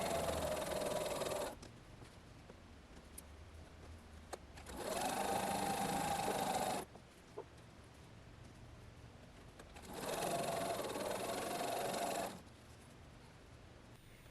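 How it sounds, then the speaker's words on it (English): A sewing machine chain pieces quilt blocks for a tropical fish art quilt, running in three steady bursts of rapid stitching, each a couple of seconds long, separated by quiet pauses with a low background hum. "Just sew to the right side of the line in each of the blocks without breaking any thread in between the blocks."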